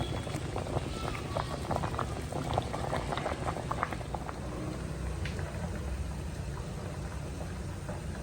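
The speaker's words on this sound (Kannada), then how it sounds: "ನೋಡಿ, ಒಳಗಡೆ ಚೆನ್ನಾಗಿ ಬೇಯ್ತಾ ಇದೆ" Sambar boils in a pot on a home kitchen stove, a continuous close bubbling and simmering that holds steady throughout.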